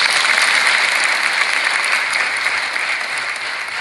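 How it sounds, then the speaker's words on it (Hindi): An audience claps together, a loud, dense and even burst of applause that holds steady and fades slightly toward the end, with no voices on top. "ताली बजाइए इनकी।"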